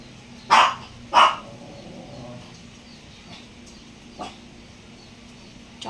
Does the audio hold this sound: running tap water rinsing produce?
no